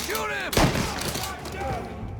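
Gunfire in the video game Mafia Definitive Edition, a single loud sharp shot bursting out mid-clip over a busy background, with a voice speaking nearby before and after.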